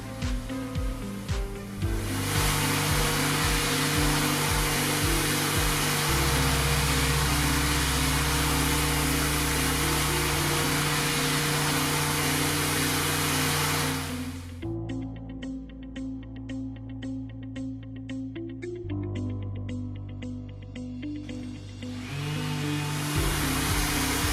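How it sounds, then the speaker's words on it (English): A steady, loud mechanical whir of a power sander with a maroon abrasive pad grinds continuously across a worktop, its pitch shifting a few times as it works across the surface. "The sandpaper is then swapped for a maroon abrasive pad."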